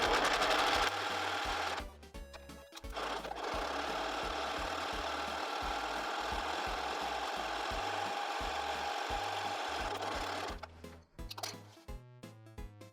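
A sewing machine runs in repeated stitching bursts with short pauses, sewing back and forth along the edge of jeans fabric while tapering the legs; the motor whir is close, steady and loud with no talk.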